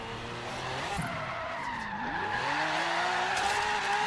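Car drifting in Forza Horizon 3, tires skidding and squealing with sweeping pitch over a steady engine drone, loud and continuous for a few seconds without talk.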